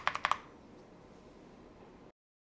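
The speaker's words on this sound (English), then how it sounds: "giving off an occasional ringing sound" A quick cluster of four bright, light clicks as a ceramic keycap rings against another key on a Q1 Max keyboard, followed by a faint fading resonance, then silence.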